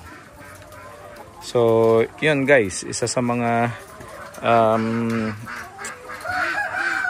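RTL (ready-to-lay) hens cluck and squawk in several loud, drawn-out calls close by, while someone talks over them.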